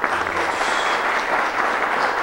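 Steady, full applause from an audience at a Puerto Plata tourism event, continuous and fairly loud across the short stretch, with no talking over it.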